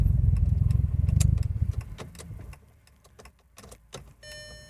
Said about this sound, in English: I just want to switch off the engine.